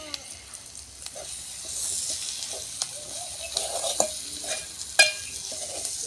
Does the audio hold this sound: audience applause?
no